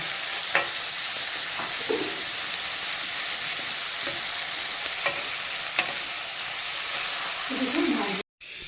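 Turmeric-coated pieces sizzle steadily in hot oil, a continuous close hiss broken by a few sharp crackles and a clink of stirring near the end, before the sound cuts off briefly.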